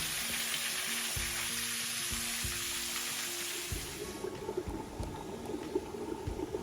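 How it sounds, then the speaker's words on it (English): Water trickles and gurgles beneath a huge boulder on a bluff hiking trail, a steady hissing wash that fades partway through, with close scuffs and low knocks over it. "The sound of water you're hearing is coming from under this huge boulder"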